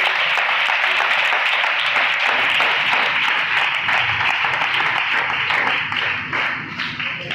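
A congregation claps loudly in sustained applause at a church gathering, a dense wash of hand claps that holds steady and then begins to thin and fade toward the end, with no clear speech over it.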